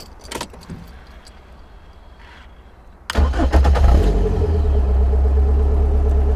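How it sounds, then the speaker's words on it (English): A Caterham 7 360R sports car engine fires up at about three seconds after quiet rustling, then settles into a loud, rumbling idle with throaty exhaust tones. "the noise from the exhaust, which is just over there, is incredible"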